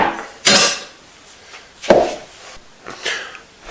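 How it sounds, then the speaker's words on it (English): A wooden cutting board is lifted and set down in a kitchen, a few sharp knocks and clatters spaced apart, close and fairly loud with quiet gaps between. "I'm going to remove this cutting board."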